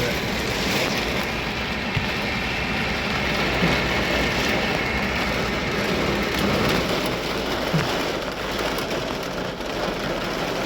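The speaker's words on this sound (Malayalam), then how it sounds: "അയ്യോ നല്ല മഴ" Heavy rain with strong wind in the Bandipur Tiger Reserve forest, heard from a safari bus as a dense, continuous hiss and roar, steady and enveloping throughout, with no talking.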